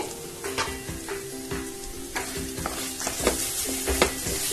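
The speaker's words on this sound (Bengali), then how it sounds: "ভালো করে কষিয়ে নেব যতক্ষণ না তেলটা রিলিজ করছে।" A spice masala fries in a little oil for chicken kosha while a spoon stirs and scrapes it around the pan. The sizzle is continuous, with scraping strokes at irregular intervals and occasional louder knocks. No one talks.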